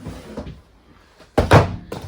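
A kitchen drawer beside the microwave in a 2024 Crossroads Zinger 340RE travel trailer, with soft rattles followed by a loud, close wooden thunk and slide as it is shut, then a quieter knock.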